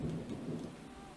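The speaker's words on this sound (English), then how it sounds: "You can hear that thunder very well." Thunder rumbling through a heavy rainstorm, steady dense rain hiss with low rolling thunder underneath, continuous and close with no voices.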